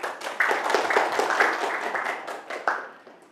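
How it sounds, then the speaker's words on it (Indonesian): A classroom group claps for a presenting group of students, fairly close and uneven, rising in bursts and fading out over about three seconds. "Kasih tepuk tangan dulu semuanya."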